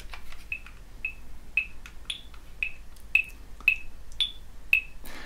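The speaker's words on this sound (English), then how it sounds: "a metronome sounds quite irritating. It sounds like this." A guitar-practice metronome ticks steadily, about two clicks per second, each a sharp bright tick sounding alone and fairly close against faint background hiss.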